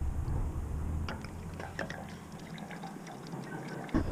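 Gasoline de-icer trickles from a bottle into a vehicle's fuel tank, a faint, soft gurgle and drip with a few small splashes and a brief knock near the end.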